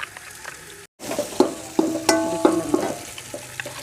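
Beef paya masala frying in a pot, a steady sizzle broken by a brief silence, then irregular scraping and clinking as the mixture is stirred.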